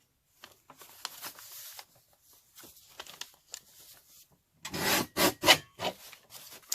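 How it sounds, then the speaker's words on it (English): Paper cutter trimming a brown paper bag, with faint rustling and handling noises followed by a louder burst of rough slicing and crackling strokes near the end. "I'm going to cut it on the cutters just so I have it that it's straight"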